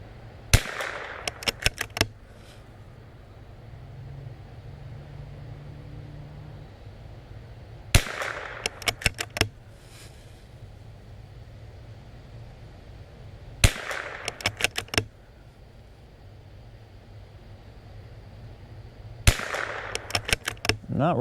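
Rapid .22LR rimfire rifle shots at steel targets, four volleys of sharp cracks spaced several seconds apart, each a quick cluster of five or so reports with faint metallic rings, moderately close with no talking.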